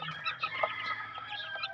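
A gamefowl chicken from a breeding flock clucks in a short burst of quick, scratchy calls, fairly close and moderately quiet, with no talk.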